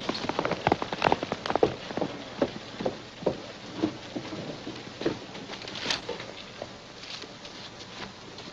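A horse named Ben, sent home on his own, clip-clops away in an irregular run of hoofbeats that grows fainter and more distant amid light scattered patter.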